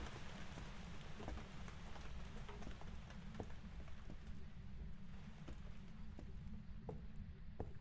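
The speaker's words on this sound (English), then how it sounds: "And we have heavy rain, obviously." Heavy rain in the ghost-hunting game Phasmophobia at a farmhouse, a constant hiss of rain on surfaces with scattered distinct drop ticks, quiet and steady with no talking.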